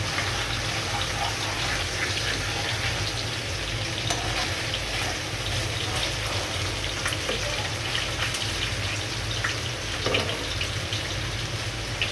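Fish cooks in a pan on a stove over low heat, producing an even, unbroken hiss of frying that holds steady from start to finish, with a faint clink or two and no speech.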